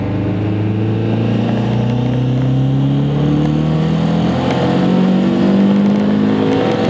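A turbocharged Honda CRX accelerates in third gear at a drag strip, its engine note climbing steadily in pitch as a loud, continuous close-up drone.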